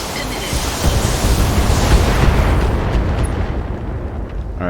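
A heavy, rumbling explosion as an enemy mech unit is destroyed in the BattleTech video game, a dense roar swelling and fading over several seconds.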